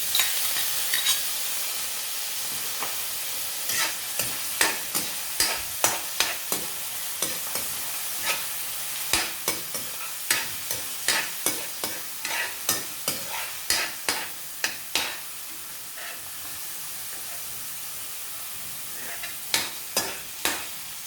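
Mixed vegetables being stir-fried for Thai pineapple fried rice on a new stove, with a steady hiss of frying under repeated sharp scrapes and clacks of a spatula against the pan, close and fairly loud, with no talking.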